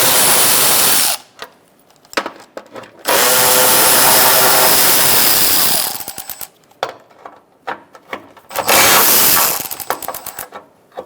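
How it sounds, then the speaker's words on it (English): A 10mm socket tool undoes the bolts holding the front bumper cover of a 2012–2017 Hyundai Accent. It comes in several loud, buzzing, rattling bursts of a few seconds each, separated by quiet gaps with small metallic clicks. "Now we're going to use a 10mm socket and we're going to undo our bolts."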